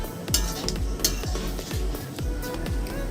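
A spatula stirs boiled tarka dal with fried egg in a pan, making rhythmic scraping strokes about twice a second over a low bubbling sizzle, with occasional metallic clinks.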